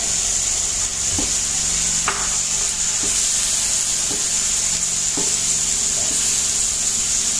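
Red chilli pickle sizzles steadily in a pan as dates are added, with a constant frying hiss and several distinct scraping stir strokes spaced about a second apart, close and fairly loud, without any voices.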